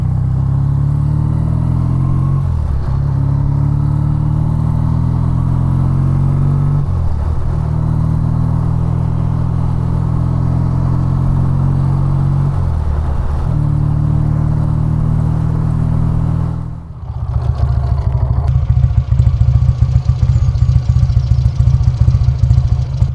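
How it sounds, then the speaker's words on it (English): A classic British Triumph Bonneville T140 motorcycle rides along a Hampshire country road, its engine droning loud and close with steady exhaust rumble, a few gear changes dipping the pitch, then a sharper surge of revs near the end. "Why not join me on a ride out on a classic British icon, the Triumph Bonneville T140."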